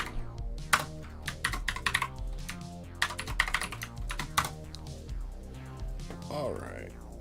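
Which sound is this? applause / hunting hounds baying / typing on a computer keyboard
typing on a computer keyboard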